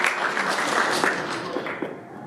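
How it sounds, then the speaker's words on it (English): A room of guests at a bank partnership event applauds, a brisk dense patter of many clapping hands at moderate volume that fades slightly toward the end. "plus all members of staff, a bigger clap for them"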